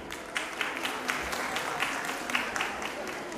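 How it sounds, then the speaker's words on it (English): An audience at a college fashion show claps steadily throughout, with a few sharper individual claps standing out, and a voice faintly audible beneath it. "You can keep clapping."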